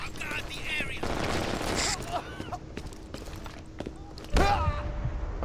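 In the Brink first-person shooter video game, bursts of gunfire crack in rapid, uneven volleys mixed with footsteps and battle clatter. Game voices are heard, and a sharp loud shot lands near the end.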